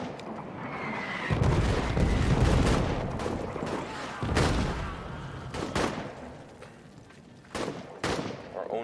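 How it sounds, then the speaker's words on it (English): Artillery and rapid gunfire pound toward the player in an RPG video game, with heavy booming bursts and sharp volleys arriving in irregular waves, loud and near. "Artillery shooting at us."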